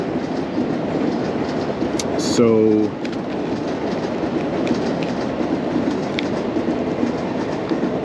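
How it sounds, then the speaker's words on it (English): An Amtrak train passes on a nearby railroad as a steady, continuous rumble with a brief louder burst, while a voice speaks briefly over it. "You hear the subway over here, or sorry, the railroad, whatever this is, Amtrak."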